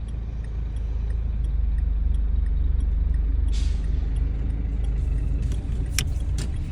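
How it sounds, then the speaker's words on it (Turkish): A car pulls out of a parking spot in first gear, its steady low engine and road rumble continuous and close, with a few light clicks and rattles near the end. "vitesimizi 1'e alarak sol sinyal eşliğinde direksiyon sonuna kadar sol döndürülüp parktan çıkıyoruz"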